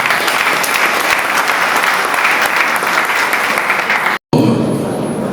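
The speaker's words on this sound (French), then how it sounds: "Sous vos applaudissements." Guests at a civil wedding ceremony applaud the bride's consent, a dense, loud burst of many hands clapping for about four seconds before cutting off abruptly, followed by quieter room sound.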